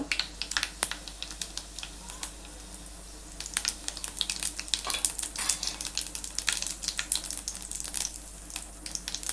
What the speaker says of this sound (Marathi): मोहरी टाकलेली आहे तेलामध्ये. त्यानंतर इथे जिरे घ्यायचं आहे, थोडंसं हिंग